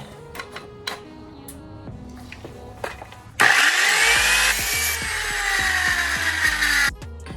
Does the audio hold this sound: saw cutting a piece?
yes